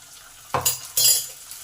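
Ground paste of ginger, cumin, coriander and garlic dropped onto reddish fried onions in a pan for pabda fish curry, giving two short close bursts of sizzle and stirring clatter.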